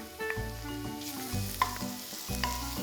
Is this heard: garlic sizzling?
yes